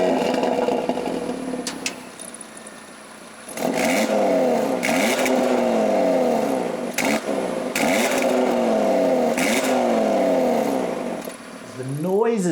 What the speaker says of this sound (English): Noises it makes from that exhaust, the crackles, the pops, the way that sonorous 5-cylinder sings